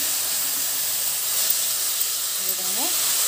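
Green chilies and ginger pieces fry in hot oil in a pan, a steady close sizzling hiss, with a faint voice or squeak near the end.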